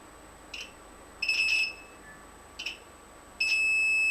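A multimeter's continuity tester beeps several times on a short-circuited passive PC, separate and fairly clear, with the last tone held steady over a faint background hum.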